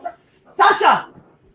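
A dog barks indoors in a short burst of a few loud, close yaps and whimpery barks, with brief gaps before and after.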